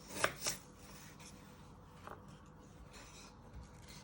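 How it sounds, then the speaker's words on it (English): A knife cutting through an apple on a board, a couple of sharp close chops at the start followed by fainter scraping taps, quiet with no talking. "And you just chop the end off."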